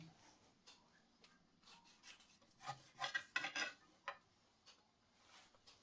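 Knife cutting through lemon for a fish dish, a few short rasping slices clustered together, close and fairly quiet with no talk.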